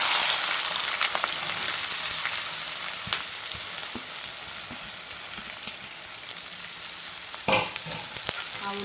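Thinly sliced onions and green chilies fry in hot oil for chicken fry, a loud continuous hiss and crackle with occasional stirring clatters near the end.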